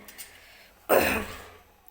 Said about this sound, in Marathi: मध्ये मध्ये खोकला येतोय